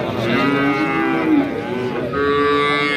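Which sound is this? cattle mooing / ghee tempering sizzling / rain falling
cattle mooing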